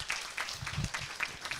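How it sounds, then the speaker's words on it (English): Audience clapping at a course reflection gathering in Mombasa, faint and brief, with a few people's claps falling in a loose, steady rhythm. "I think we need to give him a better clap"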